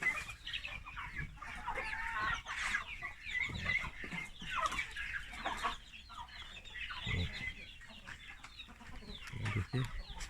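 Chickens cluck and chatter continuously in a village poultry coop where ducks are also kept, a busy flock of many birds close by with no talk.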